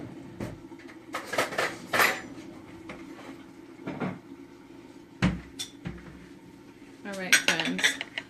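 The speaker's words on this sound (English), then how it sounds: "let me go ahead and grab a spoon" A metal spoon is picked out from among dishes and pots in a home kitchen, giving scattered sharp clinks and clatters, some loud and close, separated by quiet gaps.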